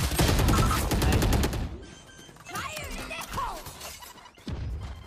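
Rapid automatic gunfire from a shooting video game, loud and dense for about two seconds, then scattered shots, thuds and game effects that quieten, with a final burst near the end.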